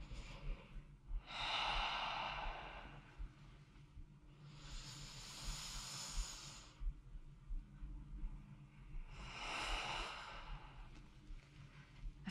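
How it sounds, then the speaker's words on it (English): Slow, deep breaths drawn in and let out during a broom exercise, three long hissing breath sounds spaced a few seconds apart, close and fairly soft, with no talking. "inhaling to lift, exhaling to lower"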